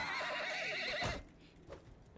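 A horse whinnies after taking a hit in the video game Mount & Blade 2 Bannerlord: a loud, quavering neigh lasting about a second, then trailing off into quieter background noise.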